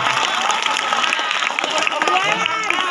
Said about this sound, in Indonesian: Tepuk tangan dong buat Nazril.